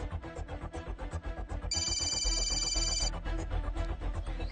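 A telephone rings in a Hindi film scene, a bright electronic tone sounding for about a second and a half over loud, rhythmic background music.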